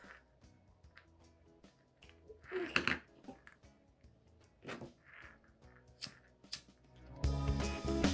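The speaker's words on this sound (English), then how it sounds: "Cut this extra string off." Scissors snip off extra macrame string on a ring bracelet, with several quiet, close, separate crisp cuts spaced across a few seconds, ending in a louder rustle of handling.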